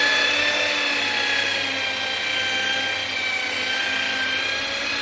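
Machine polisher buffing a Toyota Innova Crysta's body with a rubbing-compound wax mix in a car care shop, a steady close whirring motor drone with high tonal whine, continuous and alone.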